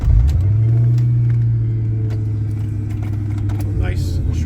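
The 2003 Saleen Mustang has a Kenne Bell intercooled supercharger. It rumbles at close range as it pulls away, with a deep engine drone that holds and then eases in pitch. There is a little cabin noise near the end.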